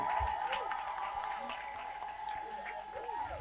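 A church congregation at a French evangelical service claps and acclaims together, a steady dense wash of applause with crowd voices mixed in, continuous and fairly loud throughout.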